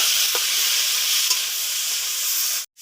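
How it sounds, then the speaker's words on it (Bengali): Leafy greens stir-fry in a hot pan with chopped garlic, giving a loud, continuous hiss of sizzling oil with a few faint stirring scrapes. The sound cuts out abruptly near the end. "দিয়ে দিব শাক,"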